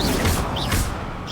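An Incendio fire spell is cast in a game and bursts out as a loud, short, noisy blast with swishing flares. It lasts about a second, with no speech over it.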